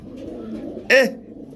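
A single short pigeon coo rises clearly once over a low steady background hum, close and brief.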